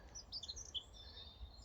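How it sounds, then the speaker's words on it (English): A European robin sings faintly in a garden, with a string of high, thin warbling phrases over a quiet low background hum. "Think of that for the robin."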